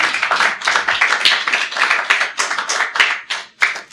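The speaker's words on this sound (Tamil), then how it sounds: "ஜோர கைத்தட்டு." A congregation claps loudly and steadily during a Tamil Christian church service, dense overlapping handclaps filling the room for about four seconds with no talking.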